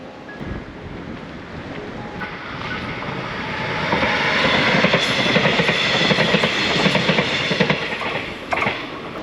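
A train rumbles past nearby on a coastal railway line in Taiwan, swelling to a loud broadband roar with rhythmic clatter of wheels on the rails, then easing slightly toward the end.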